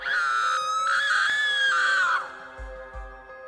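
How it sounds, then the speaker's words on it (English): A loud, sustained high-pitched scream from a woman, close and piercing, cutting off abruptly and followed by low rumbling noise. "She let out a loud scream"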